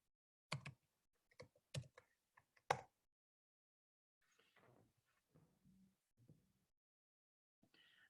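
Keystrokes on a computer keyboard while logging into a mainframe terminal, a quick cluster of sharp clicks in the first few seconds, then softer scattered taps, fairly faint and close.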